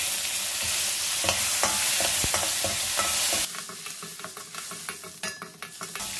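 Curry leaves hit hot oil with fried urad dal and burst into a loud sizzle and crackle, then the frying settles into softer popping while a spoon stirs and scrapes the pan.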